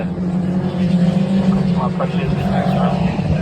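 Race cars sweep past on a wet track under waved flags, a steady loud engine roar carrying on throughout while spectators talk over it nearby.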